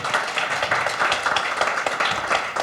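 Applause from an audience welcoming the founder of the African International Film Festival in Lagos, a dense, continuous wash of clapping that holds steady at moderate loudness for the whole stretch.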